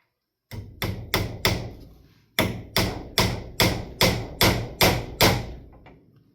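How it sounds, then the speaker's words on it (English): Sharp hammer blows strike a nail in a steady rhythm, about a dozen loud ringing hits with one short pause midway, close by. "Alright, got some nails and the hammer."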